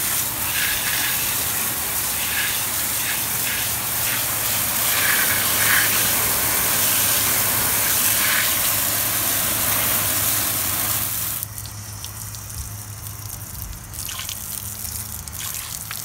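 A steady, close hiss of water sprays onto a graphene-coated car panel during washing, then thins and changes tone near the end as the spray shifts.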